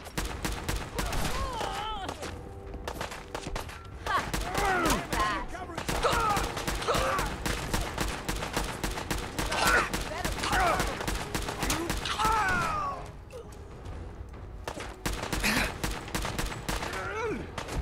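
Gunfire in the video game Fallout 4, a long run of rapid automatic shots in dense bursts with brief pauses, alongside game sounds and faint groans.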